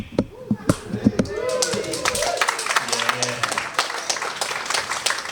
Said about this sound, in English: That's like a pity clap